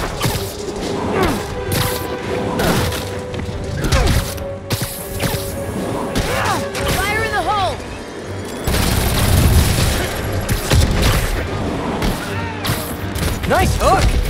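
Video-game explosions in Spider-Man Remastered: repeated heavy booms and crashes with debris and mechanical clatter, loud and close, mixed with shouted character voices and swooping effects.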